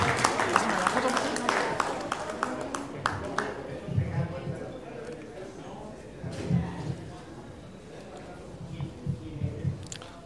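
Scattered hand claps and brief bursts of applause rise and fall at an award ceremony for a tournament as winners are called up, mixed with a voice speaking over a roomy background.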